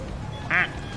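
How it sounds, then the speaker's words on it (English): A plastic rubber duck in Placid Plastic Duck Simulator gives a single short, bright squeaky quack, heard clearly over soft steady background music at a pool. "Maple quacks."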